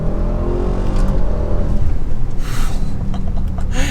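An ABT Audi RS7-R's engine pulls hard at half throttle up to about 4,500 rpm on a twisty road, a steady, loud, close engine drone that climbs with no voices over it.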